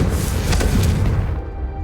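A loud Confringo fire spell blast booms in Hogwarts Legacy, a thick rumbling explosion with a crackling burst that dies away toward the end.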